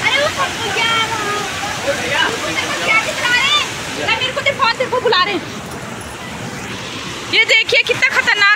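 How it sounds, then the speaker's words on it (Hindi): Heavy rushing floodwater during a cloudburst in Haldwani, a loud continuous roar and slosh with people talking excitedly over it throughout. "ये देखिए कितना खतरनाक आ रहा है पानी"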